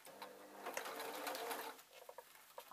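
A sewing machine stitches a fleece-lined glasses case in a rapid mechanical patter, running steadily for about two seconds before slowing into a few separate stitches.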